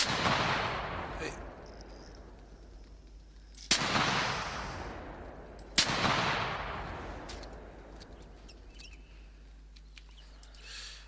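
Rifle shots fired in the hunting game theHunter Classic: two sharp, loud cracks a couple of seconds apart, each trailing off into a long rolling echo over steady outdoor ambience.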